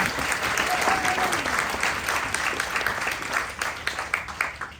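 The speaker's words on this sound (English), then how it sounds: "Let's give a round of applause" A crowd at a charity golf event applauds, a dense patter of clapping that gradually thins and fades into scattered claps.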